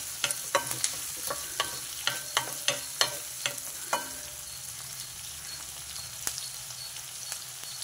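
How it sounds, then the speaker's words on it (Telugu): Onion and green chillies sauté gently in a pan, with a quick run of spatula clinks against the metal at first, then a soft, steady sizzle. "ఉల్లిపాయ కొంచెం మగ్గితే చాలు."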